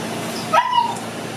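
A dog lets out a single short, high whimper that rises and then trails off over steady background noise.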